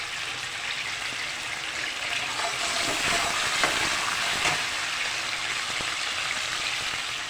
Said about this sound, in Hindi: लहसुन अदरक के साथ में डालूँगी कड़ी पत्ता।